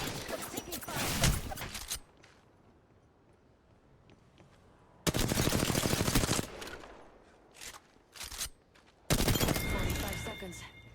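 Rapid automatic gunfire in a video game battle royale match, loud sustained bursts of a couple of seconds each, separated by quieter stretches with a few short shots in between.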